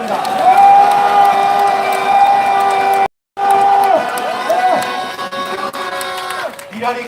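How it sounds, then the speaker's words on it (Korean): Rally crowd cheers and claps loudly with whoops and shouting, a dense roar over sustained tones, briefly cutting out before resuming at full strength. "그분들을 위해서 다시 한번 큰 박수와 함성을 보내주시기 바랍니다."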